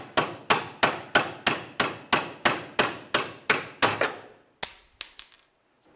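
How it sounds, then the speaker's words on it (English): A hammer strikes a metal punch to drive out a rear upper control arm bolt on a 2003-2011 Honda Element, about a dozen evenly spaced, loud blows, then a bright metallic ring and clink as the bolt comes free. "you can use an actual punch and push that bolt through"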